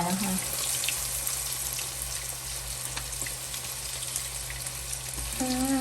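Flour-coated pork liver frying in a pan, a steady, dense sizzle and crackle running throughout at close range, with a brief voice-like tone near the end.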